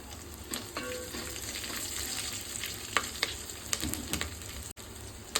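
Food frying steadily in a pan, with a continuous sizzle broken by occasional scraping stirs and light clinks of a utensil, close by and with no talking.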